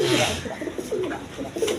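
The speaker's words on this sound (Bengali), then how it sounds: "এক পেয়ার গোবিন কবুতর দেখেন এই যে ডাকতাছে নর" Male red Jacobin pigeon cooing close by, a few rolling low coos in quick succession with brief gaps.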